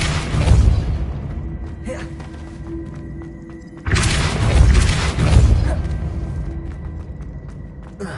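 A Depulso spell striking in the game Hogwarts Legacy, two heavy thumping impacts a few seconds apart, each a booming thud that trails off into a faint hum.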